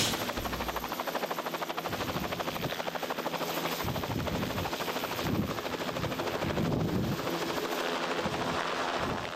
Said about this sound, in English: We're going to get you loaded onto the helicopter and get you into a hospital.